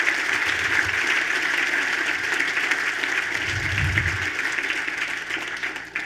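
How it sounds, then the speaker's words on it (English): An audience at a fellowship presentation applauds in sustained, even clapping that holds steady for several seconds before tapering at the end. "let's give them a round of applause for all that they do to make that possible"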